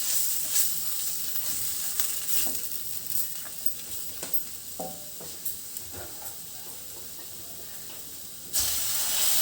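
Water poured into a hot pan of fish curry with bamboo shoots, giving a steady hiss with scattered crackles and pops, loud and close throughout, ending in a brief stronger burst.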